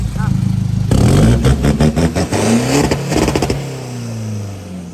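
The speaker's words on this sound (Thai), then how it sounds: "ไปฟังเสียงท่อก่อน" A Chevrolet car engine revs up several times in sharp bursts, the exhaust rising and falling in pitch, with a voice talking over it.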